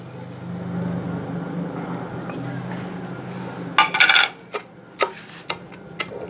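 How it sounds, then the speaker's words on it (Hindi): Ingredients for a herbal remedy pounded in a metal mortar and pestle: a low rumbling grind, then a cluster of sharp metallic clinks followed by several spaced single strikes. "यहाँ हमदस्ते में हम कूटने लगे हैं।"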